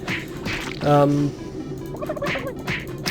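A turkey gobbles loudly in a rapid warbling burst in the video game Super Turbo Turkey Puncher 3, with game sound effects and other noises around it.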